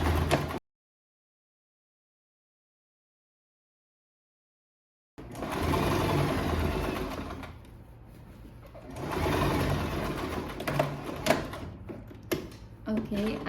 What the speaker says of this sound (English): So that's where I'm going to continue sewing.